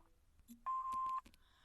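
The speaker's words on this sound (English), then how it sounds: "Please leave your name and phone number after the beep." An answering machine gives a single clean electronic beep lasting about half a second, clear and alone after a quiet pause, with faint background noise around it.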